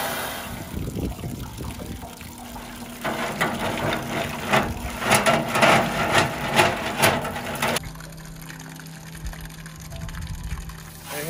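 Water from a long garden hose sprays onto oysters with a steady splashing rush, swelling louder in the middle before cutting to a quieter hiss, close and without talk.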